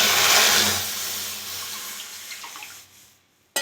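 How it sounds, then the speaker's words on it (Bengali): Milk pours into a kadai set on a lit gas burner while making dry fruit malai, a steady close liquid splash that gradually thins and fades out, with no talking. "কড়াতে আমি দুধগুলো দিয়ে দেবো।"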